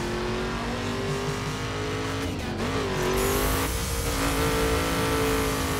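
Race car engine in The Crew video game on a twisting mountain serpentine, steady loud engine drone with shifting pitch as it brakes and accelerates, a brief dip and surge midway, continuous throughout with no talk.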